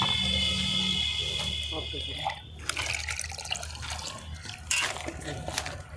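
Water runs and splashes steadily into a container as it is mixed into homemade liquid fertilizer made from rotten food, with dripping and sloshing while a person talks over it.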